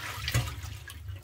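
Millet is rinsed in water in a bowl for pumpkin porridge, giving a quiet wet swish with a brief splash near the start and soft sloshing after.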